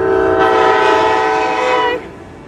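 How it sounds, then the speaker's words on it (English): Passenger train passing close by, a loud, sustained horn-like tonal roar with rail rumble that drops off sharply near the end. "Oh no, I hear the train."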